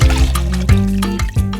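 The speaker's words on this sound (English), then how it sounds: "Now we pour in the 4 cups of chicken broth." Four cups of chicken broth poured into a soup pot for chile relleno soup, a steady close liquid splash and gurgle with no talk.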